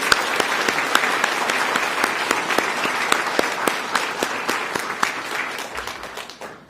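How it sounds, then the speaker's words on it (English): A middle school Memorial Day assembly audience applauds, a dense, even wash of many hands clapping close by that holds steady for several seconds before tapering off. "Let's give them another round of applause."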